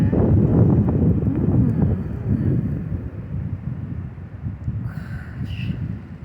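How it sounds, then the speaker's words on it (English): Strong wind in a severe snow storm roars and buffets the microphone with a loud low rumble, easing slightly in the second half, with no talking. "oh no, here's the wind, here's the wind."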